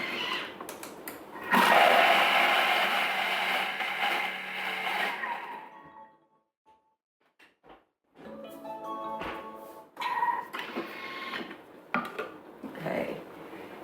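A Thermomix blends nacho ingredients at speed 7 in a short, loud whirring burst lasting a few seconds. It drops into near silence, followed by clattering handling noises and lid knocks.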